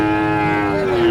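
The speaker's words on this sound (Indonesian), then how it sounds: "Oke, kita lanjut lagi di jenis sapi simental." A Simmental cow at a cattle market in Tuban lows in one loud, sustained moo close by, with no talking.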